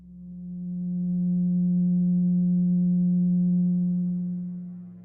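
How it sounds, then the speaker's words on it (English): A steady pure tone at 180 cycles per second, a single smooth hum that swells in and fades out over about five seconds, alone with no voices. "let's listen to what the 180 total degrees contained in a triangle sound like"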